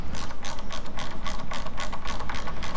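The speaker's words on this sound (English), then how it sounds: "Tighten the terminal bolts to about 20 foot-pounds." Rapid, steady ratchet clicking as terminal bolts are tightened on a salvaged Tesla battery module during a BMS retrofit, close and loud, with an even rhythm of strokes and no talk.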